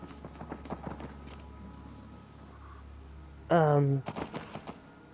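Horse hooves clip-clop steadily while riding in Skyrim VR, with a short loud tonal game sound partway through and a person talking over it.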